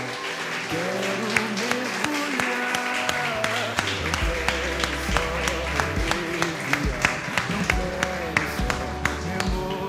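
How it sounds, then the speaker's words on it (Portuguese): A church congregation claps along steadily with sharp, evenly spaced beats over a sustained musical backdrop, voices and instruments continuing throughout. "Dê uma salva de palmas para Jesus."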